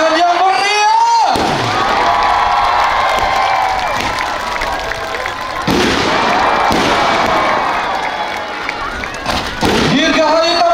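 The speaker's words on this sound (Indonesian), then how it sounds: "Berikan tepuk tangan yang meriah." A crowd at a Balinese Kecak dance performance bursts into loud cheering and applause in sustained waves, with an amplified voice speaking over the noise at the start and end.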